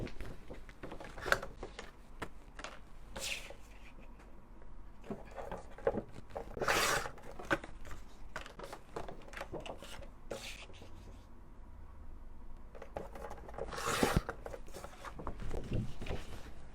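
Scissors or a paper trimmer work through striped patterned paper, sliced to size for a scrapbook notebook holder, with soft intermittent rubbing and cutting strokes, a few louder swishes, close and fairly quiet.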